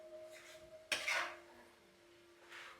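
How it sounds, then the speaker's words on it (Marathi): Methi masala, fenugreek leaves with spice paste, is stirred and sautéed in a pan, with a faint, brief scraping rattle of a utensil against the metal pan and near-quiet between strokes. "ह्याला छान असं परतायचं, सगळं एकजीव करायचं याचं"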